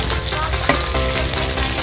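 Dried fish fries in hot oil with a loud, dense crackle and sizzle close by, broken by a sharp clack from turning the pieces, with no talking.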